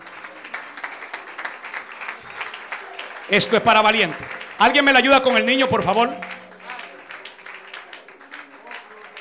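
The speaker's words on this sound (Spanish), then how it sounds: "Deme el aplauso al Señor por esa vida." Sustained applause from a church congregation at an evangelistic service runs throughout, with a preacher's amplified voice speaking loudly over it in two strong bursts.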